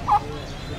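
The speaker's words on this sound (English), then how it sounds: "Oh wow, you've got geese. Wow, they've got geese as well." A single short honk from geese or ducks at a poultry shop in Malaysia, a brief near call standing out over low background noise.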